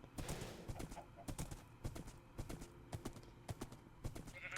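Horse hooves clip-clopping in Minecraft, a steady rhythmic series of sharp clops at walking pace, fairly quiet with faint speech underneath.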